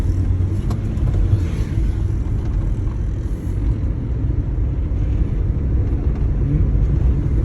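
Car driving out of a 30 km/h zone and accelerating before shifting into third gear, a steady, loud low engine and road rumble from inside the cabin, with no talking.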